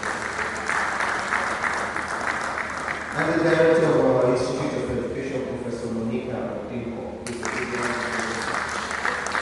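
Sustained audience applause at a University of Ibadan research event honors acknowledged professors. Dense clapping fills the hall throughout while an announcer speaks over it.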